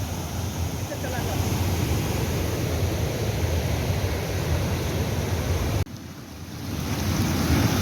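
Turbulent, churning water pours over a large canal weir in a loud, continuous roar, with a brief dip near the end before the rush builds again.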